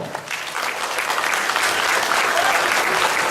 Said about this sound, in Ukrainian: Оплесками привітаємо!